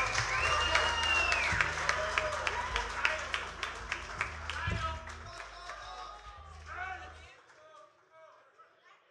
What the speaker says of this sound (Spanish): Aplauso de verdad, vamos.